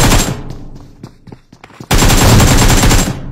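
Loud, close automatic gunfire in the BGMI battle royale game, bursts of rapid shots at the start, then scattered single shots, then a sustained heavy barrage to the end.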